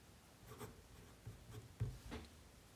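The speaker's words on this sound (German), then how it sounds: "man hört, dass die Feder übers Papier gleitet" A Zebrano-wood "München" piston-filler fountain pen by Himmelsstier, its nib with slight feedback, glides over paper in faint, soft scratchy strokes, several short swipes in a quiet room.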